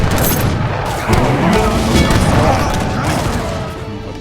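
Battle explosions and cannon fire in a real-time strategy game, with dense overlapping booms and crackling volleys rolling continuously at high volume.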